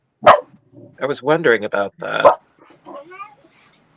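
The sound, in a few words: dog barking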